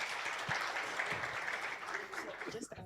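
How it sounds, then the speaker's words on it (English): Audience applause at a citizens' forum conference honoring the speakers and keynote speaker, steady dense clapping across the room at moderate volume, tapering slightly at the end. "Please give a round of applause for all our speakers and also our keynote speaker."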